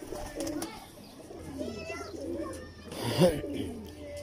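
Old Kasuri pigeons coo softly amid other bird chirps, with a louder burst of cooing near the end, heard close up and under a low background hum.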